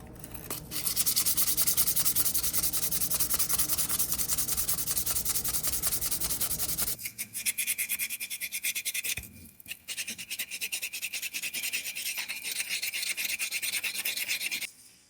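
An old 1914 Case pocket knife is rubbed by hand with worn sandpaper, giving continuous, close, rasping strokes. The sound is loud and dense at first, then thinner and more rhythmic, with brief pauses.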